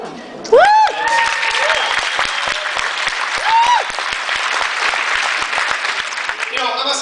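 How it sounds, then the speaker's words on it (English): A live audience at a folk music group's performance bursts into applause, with dense clapping running throughout, joined by a few whoops and cheers near the start and midway. "Thank you for applauding"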